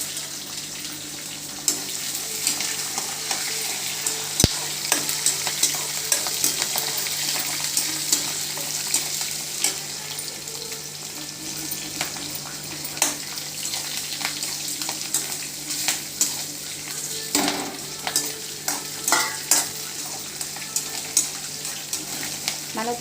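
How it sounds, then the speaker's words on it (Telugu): Ginger pieces, green chillies and curry leaves frying in hot oil for a pulihora tempering, a steady close sizzle with frequent stirring clicks and scrapes throughout, no voices. "వేగిన తర్వాత అప్పుడు అల్లం ముక్కలు, పచ్చిమిరపకాయలు, కరివేపాకు, లాస్ట్లో ఎండుమిరపకాయలు వేసుకోవాలి."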